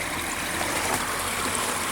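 Water rushes steadily through a gold sluice fitted with Gold Hog mats, a continuous, dense, close-up wash of flowing and splashing water with no pauses.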